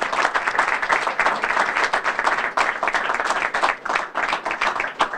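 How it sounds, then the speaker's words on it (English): Applause for Governor Jack Markell at a bill-signing event, with a dense, steady round of clapping from an indoor crowd that holds strong throughout without pause. "So I want to give him a round of applause."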